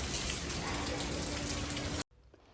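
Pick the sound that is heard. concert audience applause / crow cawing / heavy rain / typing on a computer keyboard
heavy rain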